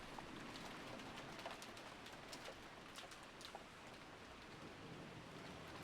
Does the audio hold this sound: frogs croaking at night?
no